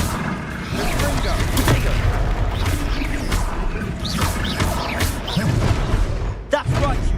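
Confringo fire blast spells in Hogwarts Legacy go off as a rapid series of sharp bursts and booms amid the racket of combat, with a short break before a final loud blast near the end.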